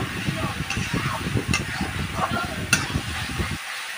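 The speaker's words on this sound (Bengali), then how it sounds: "এইভাবে আমি কিছুক্ষণ টাইম লাগিয়ে মশলাগুলো ভালো করে কষিয়ে নেব" Spices being sautéed in a pan for a ridge gourd curry, giving a soft sizzle with scraping stir strokes and a few sharp clinks close by; no speech.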